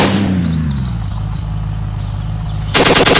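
Light machine gun fire in the survival video game ApocZ; a rapid burst starts near the end, loud over a constant droning vehicle engine rumble.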